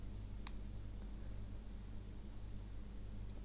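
Computer mouse clicks: one sharp close click near the start, then a couple of fainter ones, set against a steady low hum and hiss.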